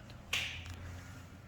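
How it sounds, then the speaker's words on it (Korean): A single sharp hand clap from a rider practicing on a unicycle in Suwon, one crisp close smack that decays quickly over a quiet low hum. "멈추고 박수 한번"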